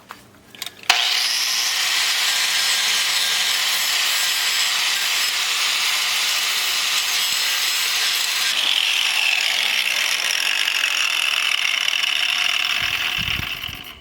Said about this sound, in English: I just used a 4-inch grinder to clean the surface off